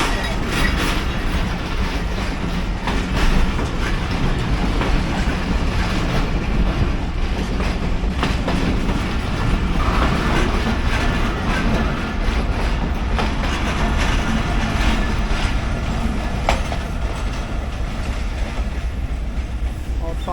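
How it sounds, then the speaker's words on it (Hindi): Locomotive RG20 5125 shunting freight coaches in a rail yard in Lahore: a steady, heavy rumble of engine and rolling wagons, with faint wheel clatter and occasional squeals running throughout, and no talking over it. "सामने जी RG20 5125 की पावर जो है शंडिंग कर रही है फ्रेड कोचेज के साथ"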